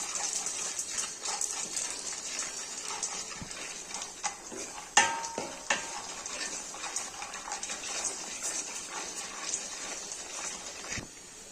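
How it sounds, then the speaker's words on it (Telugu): Peanuts and roasted gram are stirred and fried together in a pan for a crispy poha mixture, giving scattered clinks and scraping taps of a spoon against the metal over a soft sizzle, with no talking. "ఇప్పుడు బాగా మిక్స్ చేసి ఫ్రై చేసుకోవాలి."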